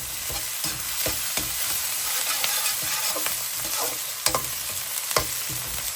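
Spice paste (masala) with green chillies frying briskly in a pan for a mixed vegetable curry: a steady close sizzle with occasional stirring scrapes and clinks.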